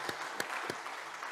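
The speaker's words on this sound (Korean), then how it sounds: "우리 박수로 한번 환영하겠습니다." A church congregation applauds during a Sunday service to welcome a newly introduced family, a steady wash of clapping with a few sharper individual claps standing out near the start.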